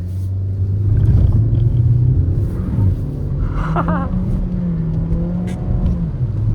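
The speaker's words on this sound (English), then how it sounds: "Oh my lord, the wheel spin is amazing" Škoda Octavia 1.5 TSI 110 kW accelerating hard with wheel spin, a loud close engine drone and rumble that surges, then holds steady with a faint whine and a brief squeal.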